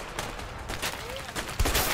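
Rapid gunfire in a shooter video game, a dense burst of shots continuing throughout the brief moment, loud and close with voices talking over it.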